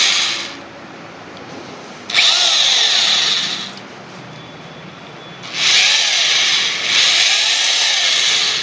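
A hammer drill whines loudly in two long bursts separated by a quieter idle stretch, its pitch rising as it speeds up, close by with no talking.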